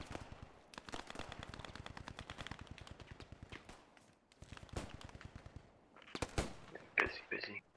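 Rapid machine-gun bursts and scattered rifle shots from World War II battle fighting in the first-person shooter game Post Scriptum, fairly loud and continuous with brief gaps, plus a few sharper close shots near the end.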